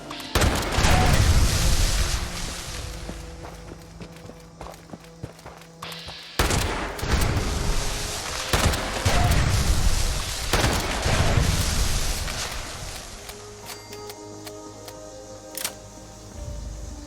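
An unsilenced pump shotgun fires at ghouls in Fallout 76, with loud, close blasts arriving in irregular bursts and a heavy boom partway through, under steady game ambience.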